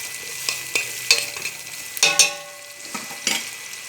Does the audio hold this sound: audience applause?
no